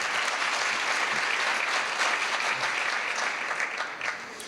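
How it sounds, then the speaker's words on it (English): Audience applause at Mayor Byron Brown's Hispanic Heritage Month celebration in Buffalo, honoring education champions: a dense, steady wash of clapping from a sizeable crowd, fairly near, tapering slightly at the end. "Let's give our champions in education a great big round of applause."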